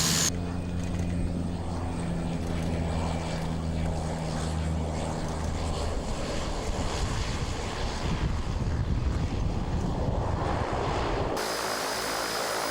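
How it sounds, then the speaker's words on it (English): A seaplane over the Maldives atolls drones with a steady propeller engine hum that holds for most of the stretch before cutting off abruptly near the end. "the seaplane is the ideal surf mobile to check the nearby spots"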